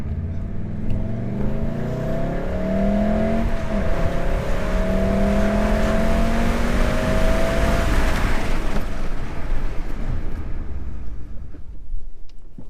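A lowered Volkswagen Golf R on Rotiforms wheels accelerates hard during repeated simulated race stops. Its engine note rises steadily and loudly, close by, for several seconds, then drops away as the car brakes to a stop.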